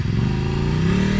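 A motorcycle rides past at the Moto do Ano 2019 test-ride event at Haras Tuiuti, its engine loud and near with a steady, slightly rising drone and no talking.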